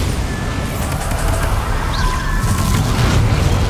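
A Bombarda blasting spell goes off in Hogwarts Legacy, a loud booming explosion with a rumbling low end and crackling debris that carries on as sustained combat noise through the whole stretch.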